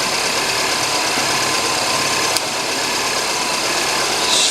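Rebuilt Mini Cooper S engine running at a steady, close idle with a slightly uneven, rough tone and a constant mechanical hum throughout, no voices.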